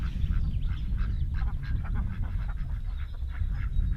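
Several pet ducks quack in short, repeated bursts over a low, steady background rumble, fairly close and continuous across the moment, with no talking.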